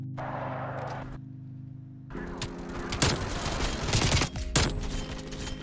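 Rapid bursts of automatic gunfire from a Milano 821 in a shooter video game begin after a brief lull, with loud sustained volleys and sharp cracks repeating close up.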